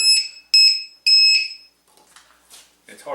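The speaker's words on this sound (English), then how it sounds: "you see the alarm went off because number 2 has dropped down" A battery discharger's alarm beeps loudly in three sharp, high-pitched electronic bursts near the start, followed by someone speaking.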